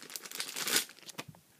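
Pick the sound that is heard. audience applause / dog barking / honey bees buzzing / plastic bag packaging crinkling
plastic bag packaging crinkling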